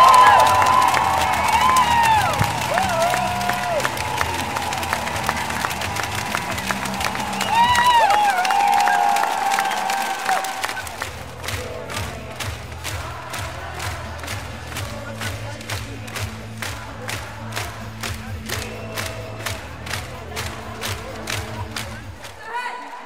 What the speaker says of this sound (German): Nach dem 1:0-Sieg gegen Schweden am Sonntag gab es Jubel und laute Gesänge für die Fußball-Europameisterinnen